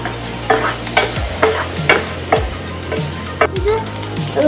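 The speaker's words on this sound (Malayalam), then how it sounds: "അത് നന്നായിട്ട് മിക്സ് ചെയ്തുകൊണ്ടിരിക്കുക ഓണിയൻ സോർട്ട് ആവാൻ വേണ്ടി" Onion and carrot frying in a pan for white sauce pasta, stirred with about eight quick, evenly spaced scraping strokes over a soft continuous sizzle, close and clear.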